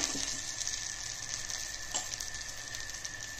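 Mustard seeds and urad dal sizzle and fry in oil in a pan for a chutney tempering, a steady close crackling hiss with faint stirring clicks.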